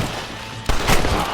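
A single gunshot from the Red Dead Redemption western video game, fired at an escaping outlaw: a sudden loud crack cuts in partway through and rings out with a rough, noisy tail, no voices over it.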